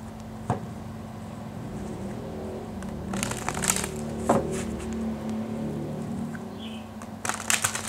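Tarot cards being shuffled make soft papery riffles and slaps, close and moderately loud, with a few sharper snaps near the end and no speech.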